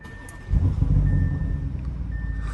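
Push-button start of a 2020 Audi SQ7, the engine catching about half a second in and settling into a deep, loud, steady rumble, with a thin electronic chime tone sounding intermittently above it.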